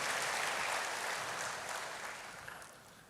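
Church congregation applauding, a dense wash of many hands clapping in a large hall, steady at first and slowly fading toward the end.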